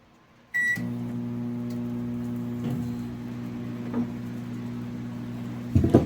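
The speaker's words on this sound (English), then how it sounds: "I'm going to put it in the microwave oven." A 1000-watt microwave oven starts with a beep and then runs with a steady, low electrical hum, close and continuous, with a few soft clicks before a rattle near the end.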